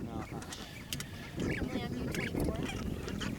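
A Brant gosling, handled for weighing at a nesting ground near Chevak, Alaska, gives a few soft honks amid handling noise and background voices.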